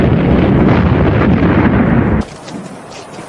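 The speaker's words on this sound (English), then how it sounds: "a heavy shell falling every few minutes within a few yards of you, half stunning you with the crash of the explosion" A loud artillery shell explosion effect on a First World War theme, a dense heavy roaring blast that sustains for about two seconds and then cuts abruptly to a faint lingering rumble.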